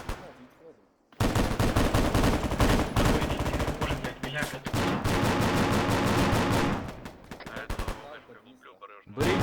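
Loud, rapid bursts of automatic gunfire in Arma 3 crackle almost continuously, pausing briefly between volleys.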